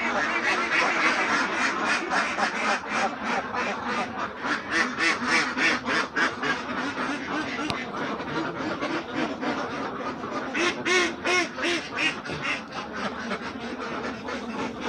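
A flock of ducks on a small, cramped duck farm quacks loudly and without pause. Dense overlapping calls come from many birds close by.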